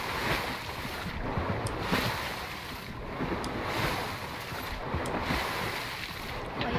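Motorboat in a video game, a steady wash of engine and water noise with wind, moderately loud and continuous, with faint periodic clicks.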